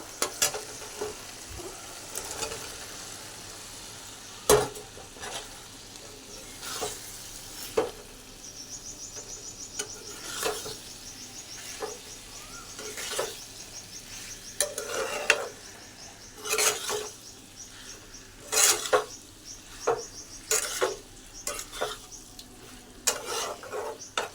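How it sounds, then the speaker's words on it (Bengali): Potatoes and soybean chunks frying in spice paste cooked down until the oil separates, for a soybean curry; a continuous close sizzle with repeated scraping and stirring clatters from a utensil against the pan, and no voices. "তো এবার দিয়ে দেবো আলু সয়াবিনটা"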